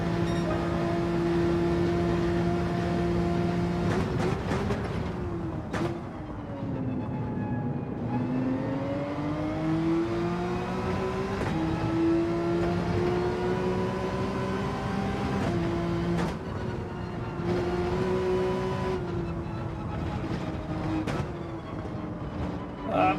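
Porsche GR.3 race car engine in Gran Turismo 7 holding a steady loud drone throughout, with pitch rising and falling through gear changes and brief shift blips, occasional talk over it.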